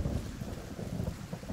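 Rain and low rolling thunder in the video game Vermintide, a steady dull patter with deep rumbling underneath, fairly quiet and continuous with no voices.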